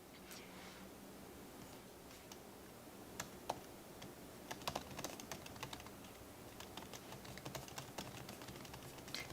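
Keys clatter on a computer keyboard as a survey question is typed in Mailchimp, a quiet, steady run of light clicks over a faint background hiss, with no talking.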